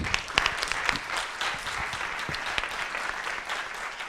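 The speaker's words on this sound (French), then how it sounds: "Loris Cécilion, merci beaucoup, on vous applaudit" An audience applauds a soil-science speaker at the end of a talk on spectroscopy, a dense, steady wash of many hands clapping that holds evenly throughout.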